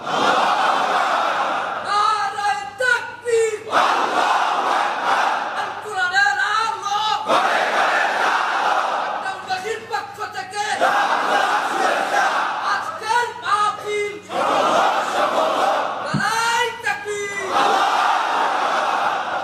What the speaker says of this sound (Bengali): তাকবীর পড়ুন, আল্লাহু আকবার।